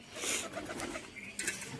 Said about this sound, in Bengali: এই দেখুন চিন্টু, ছোট বাচ্চা, চিন্টুর বাচ্চা, এই যে কবুতরগুলো বেরোচ্ছে এক এক করে।